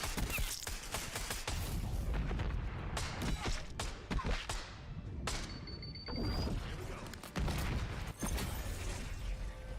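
Bursts of GPR assault rifle fire from Black Ops 6 crackle through a busy match, with rapid shots, thuds and impacts over constant game noise, fairly close and dense.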